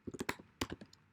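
Rapid keystrokes on a computer keyboard, a short burst of about eight crisp, close clicks in quick uneven rhythm, with a brief pause midway and nothing else audible.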